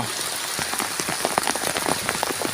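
Heavy rain pours onto a sugarcane field in Suphan Buri, Thailand, a dense, loud, steady patter of drops on leaves and surfaces with no voices.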